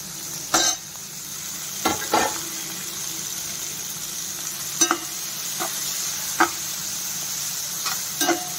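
Tomatoes fry in a pan with a constant, fairly loud sizzle. Sharp spatula scrapes and taps break in at irregular intervals, roughly eight strokes in all.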